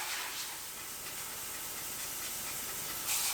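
A steady, loud hiss of compressed air blowing continuously through a Chevrolet Silverado truck cab, close up, with no voices.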